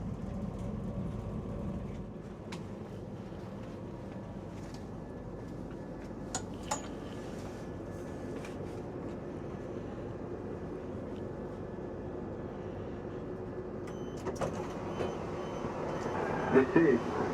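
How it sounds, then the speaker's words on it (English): A train pulling out of Harrogate station, low rumbling engine and rolling noise held steady under a quiet platform ambience, with a few sharp clanks and a brief rise near the end; someone talks faintly at times. "watch this train depart"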